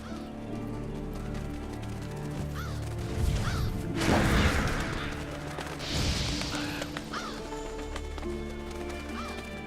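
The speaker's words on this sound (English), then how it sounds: "Seems the black birds are the culprits. Revoltures. They're scavenger birds that enjoy large monsters' leftovers." Revolture scavenger birds cawing in Monster Hunter: World, scattered harsh calls over a steady game music bed with bursts of louder action noise.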